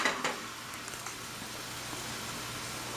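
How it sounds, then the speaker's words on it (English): Burger patties frying in a pan for mushroom and Swiss burgers, giving a steady, quiet sizzle with faint crackles that runs throughout with no talk. "Now we're just going to cook our patties."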